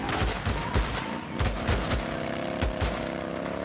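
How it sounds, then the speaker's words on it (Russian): Gunfire in the video game Days Gone, a rapid volley of repeated shots over a steady background hum, loud and sustained throughout. "Что за стрельба?"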